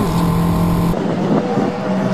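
Toyota MR2 race cars pass on the Mallory Park circuit: a loud, close engine roar cuts off abruptly, followed by a fainter buzz of cars continuing around the track.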